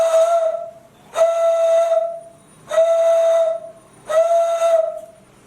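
Four long, loud breathy whistles from blowing across a bottle partly filled with water, each a steady hooting tone with hiss, spaced about a second apart, like an old steam train whistle.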